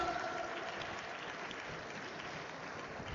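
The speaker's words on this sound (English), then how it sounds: "Can we have a huge round of applause for everybody gracing the dais here?" Applause from an audience at a nonwoven technology trade exhibition at the Bombay Exhibition Centre: sustained, even clapping from a hall full of people, heard from some distance and fairly quiet.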